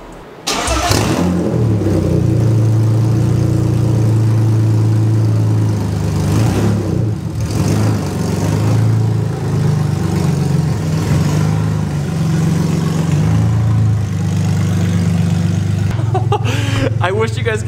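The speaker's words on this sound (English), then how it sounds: "I do have to take this opportunity to see what this is gonna sound like with open headers." BMW E36 M3 with Raceland open headers starting up and then idling very loud and raw, a deep steady rumble with throttle changes, close by, ending in a short cut of other noise.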